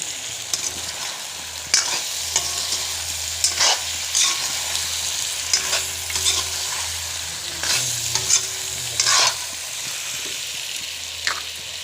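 Pumpkin and potato pieces with goat meat stirred in a hot pan, repeated scraping strokes of the spoon rising over a constant sizzle and frying crackle, no one speaking.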